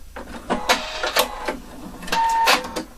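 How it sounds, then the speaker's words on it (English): A sewing machine stitches a slit with lining in short bursts of rapid mechanical whirring, close by, pausing briefly between runs. "I'm just sewing to the first cross point"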